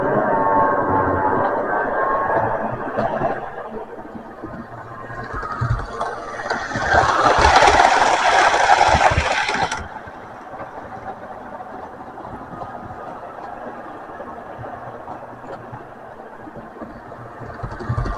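Intercity Swallow HST model train running on track, a steady motor whine and rumble with a louder, brighter stretch midway before settling back to a low, even hum.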